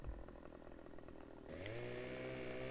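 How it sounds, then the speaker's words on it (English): A chainsaw in the Farming Simulator 17 video game idles with a buzzing drone, then revs up sharply into a loud, sustained high whine as it starts cutting a tree, heard up close and alone. "So we're going to pull out our chainsaw"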